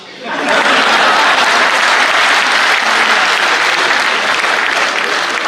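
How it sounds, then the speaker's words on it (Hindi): Enthusiastic audience applause at a Hindi comedy poetry gathering, a hasya kavi sammelan, rising quickly after a brief quiet start into a loud, sustained wash of many clapping hands. "बात आप तक पहुंचे तो आपकी तालियां मुझे बताएं"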